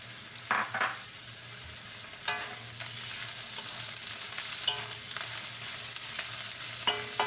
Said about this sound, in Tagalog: Igigisa mo lang siya. Gisa-gisa lang ng konti.